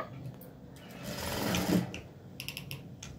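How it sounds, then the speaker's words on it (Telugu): A sewing machine runs briefly while stitching a double seam at the shoulder of a modal dress, a short whirring burst followed by a few light mechanical clicks, close and moderately loud. "డబల్ కుట్టు వేసుకోవాలి షోల్డర్ దగ్గర."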